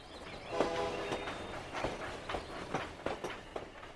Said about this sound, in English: And then I added a steam train sound.